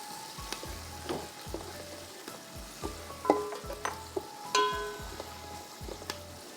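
Two large onions fry in a pan toward light brown for a fish muthia dish, with a steady close sizzle broken by repeated spoon scrapes and clinks against the pan; no one speaks.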